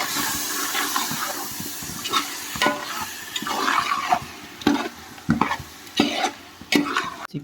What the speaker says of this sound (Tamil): சிக்கனை மசாலாவோட நல்லா பிரட்டி விட்டுக்கலாம்.